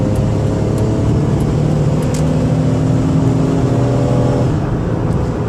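A 2005 Dodge Caravan SE wheelchair van with 161k miles cruising on the highway at about 70 mph, a steady, loud engine drone and road hum held evenly throughout, with no talking.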